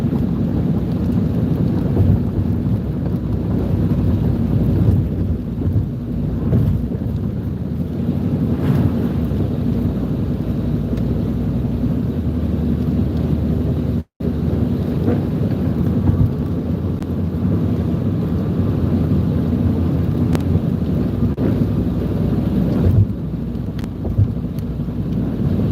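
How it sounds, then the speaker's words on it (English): Strong, constant wind roaring against the microphone during a storm chase in Oklahoma, a loud, unbroken rush with one brief dropout midway. "So it is wind."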